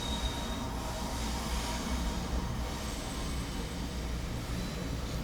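Train passing by outside a window as a steady, faint rumble of rolling wheels and rail noise, continuous and distant, with no voices.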